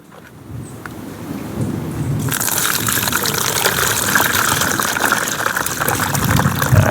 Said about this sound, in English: Alright, so I just go and strain it off now